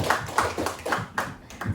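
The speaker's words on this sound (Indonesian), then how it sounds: "boleh kita kasih aplaus buat Bu." An audience of teachers gives a short round of applause for a female teacher, with distinct, evenly spaced claps sounding sparse and fairly quiet, a few hands at a time.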